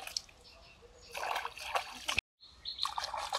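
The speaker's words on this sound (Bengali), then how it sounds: "কচুগুলো ভালো করে ধুয়ে নিচ্ছি" Water runs and splashes while taro is washed by hand, a soft close trickle and sloshing that swells and fades, briefly cutting out, with no talk.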